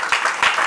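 A church congregation claps in a brief burst of a few quick, loud claps.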